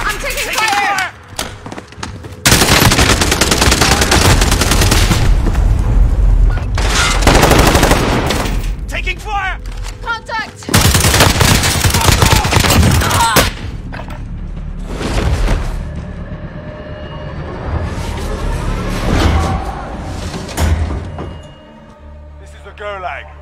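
Call of Duty Warzone gunfire, long loud bursts of rapid automatic shots broken by mechanical clanks and creaks, with a voice talking over parts of it.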